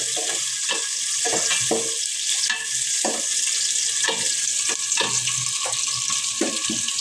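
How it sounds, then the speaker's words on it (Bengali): Sliced onions and green chillies sizzle loudly in hot oil in a pan, with a constant bright crackling hiss broken by repeated scraping stirs of a spatula. "পেঁয়াজ কাঁচামরিচ কেটে দিল, তারপরে ভালোভাবে নেড়ে চেড়ে দিতেছে"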